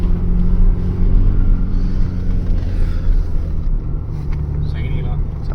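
A car climbing a mountain road toward Manali in second gear, a steady loud low engine drone and rumble that holds throughout, with voices talking over it.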